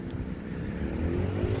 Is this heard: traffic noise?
yes